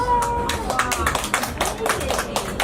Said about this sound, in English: Big round of applause for Hank.